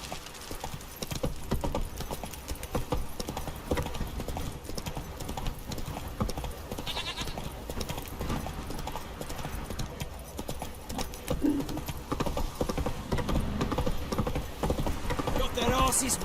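Roach the horse gallops in The Witcher 3, hooves clip-clopping in a fast, continuous rhythm beneath game music and speaking voices, with a faint whinny partway through.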